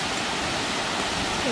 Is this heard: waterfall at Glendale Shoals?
yes